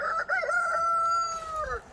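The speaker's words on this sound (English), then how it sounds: "one of them definitely just crowed" A young rooster, newly moved outdoors with the other chicks, crows once, loud and fairly close, in a long drawn-out cock-a-doodle-doo that rises and then trails off.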